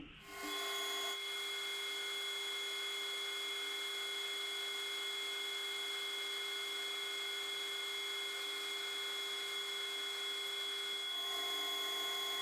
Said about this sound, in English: I'm going to run the 3/4 reamer up it.